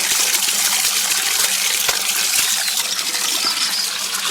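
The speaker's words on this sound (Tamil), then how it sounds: "மஞ்சள் போட்டு ஊற வச்ச மீனை நல்லா கழுவி அரைச்சி எடுத்துக்கலாம்" Turmeric-soaked fish being washed in water, loud continuous close splashing and sloshing with small clinks throughout.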